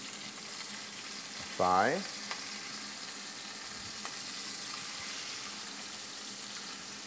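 Chicken pieces, breast, drumstick and thigh, sear skin side down in a very hot pan, a loud steady sizzle with a brief squeaky scrape of placement; someone speaks briefly over it.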